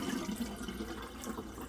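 Starchy water from rinsing rice is poured out of a pot, making a steady splashing rush of liquid that runs continuously through the moment.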